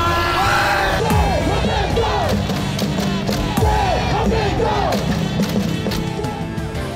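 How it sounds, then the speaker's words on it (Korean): A huge crowd of tens of thousands cheers for the South Korean national football team at Gwanghwamun Square in freezing cold, a loud, continuous roar of shouts and chants with rising whoops throughout. "승리의 함성, 대한민국!"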